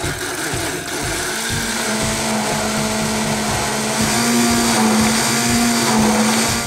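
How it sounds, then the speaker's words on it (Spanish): A hand blender whirs continuously, loud and close, whipping soy lecithin into an aguachile liquid to make a foamy air, a steady motor drone with a slight rise in pitch partway through. "trabajaremos con una licuadora de mano"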